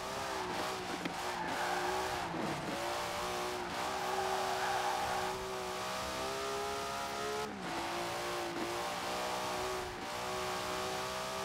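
A race car in Forza Horizon 4, its engine droning loudly and continuously with rising and falling revs through gear shifts and a few tire squeals, no talk over it.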